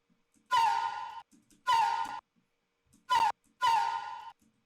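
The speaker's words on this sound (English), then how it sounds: "It's a flute that I recorded myself" A flute recorded in Morocco, used as a game sound sample, sounding four breathy, separate tones, each with a sliding bend at the start, clear and close with silence in between.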